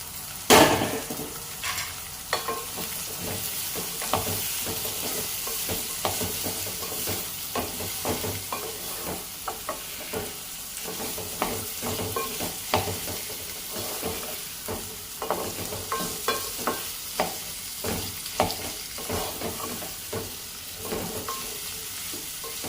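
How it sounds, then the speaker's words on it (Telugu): Ivy gourd and onions fry on a medium flame, a steady sizzle broken by repeated scraping strokes of a spoon as the pan is stirred, close and continuous with no voices. "ఇలా మీడియం ఫ్లేమ్లోనే పెట్టుకొని మనం కలుపుకుంటూ ఫ్రై చేసుకోవాలి."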